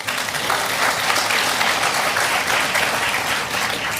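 A large audience at a political economic event claps loudly and steadily in a dense, continuous wash of applause, with no speech over it.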